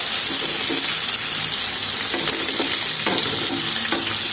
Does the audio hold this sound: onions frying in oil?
yes